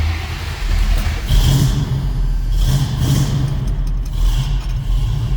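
A 1976 Mercury Monarch idles after a cold start, its engine a loud, close, uneven rumble that swells in a few rising revs before settling back, with no voices over it.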